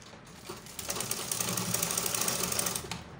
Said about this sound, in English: Double stitch it.